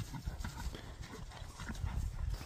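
Horse hooves clip-clop on the ground in a quick, uneven run of soft thuds, fairly faint and close, with faint background sounds.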